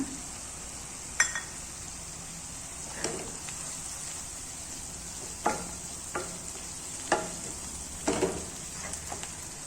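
Masala frying in a pan for mushroom gravy, a steady hissing sizzle under scattered spatula taps and scrapes at irregular intervals, close by with no speech.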